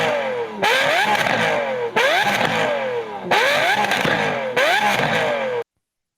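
A Lamborghini SVJ supercar engine revs hard in four repeated bursts, each climbing in pitch and roaring loudly before cutting off, then silence.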